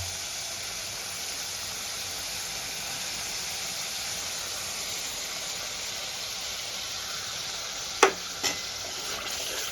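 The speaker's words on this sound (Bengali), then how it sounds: "এবার আমি যে মশলাটা আগে থেকে ভিজিয়ে রেখেছিলাম, সেই মশলার পেস্টটা আমি দিয়ে দেবো" Spice paste goes into tomatoes frying in oil for a potato, cauliflower, pea and paneer vegetable curry, a steady even hiss of sizzling throughout, with two sharp utensil clinks against the pan near the end and no talking.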